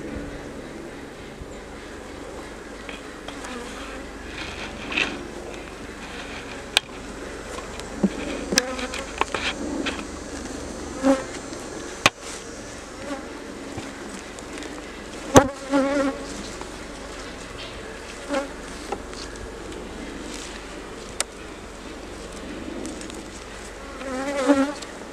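Agitated honeybees buzz continuously around an opened hive during a fall inspection, a steady close drone with individual bees zipping past the microphone and occasional knocks from handling the frames.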